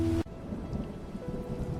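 Thunderstorm at sea, with steady heavy rain and a low rolling rumble of thunder, heard from below deck; a brief louder burst at the start gives way to a continuous dense wash.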